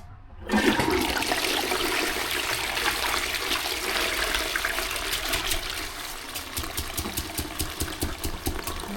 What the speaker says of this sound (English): So let's flush again.